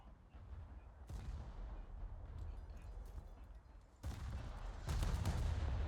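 Naval guns aboard the cruiser USS Pensacola fire shells in a video game, producing heavy booming blasts, with distinct louder salvos near the one-second, four-second and five-second marks over a continuous rumbling background.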